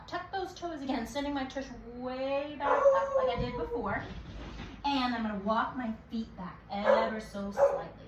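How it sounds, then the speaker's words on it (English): A pet dog barks and whimpers during an indoor youth yoga session, several yips and barks mixed in with a woman giving instructions close by. "Please excuse my dog barking."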